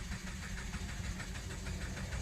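A 2013 Dodge Journey with a 2.4-liter engine and a chronic overheating fault cranks and runs, giving a steady, fairly loud, close rumble with no break across the clip and no voices.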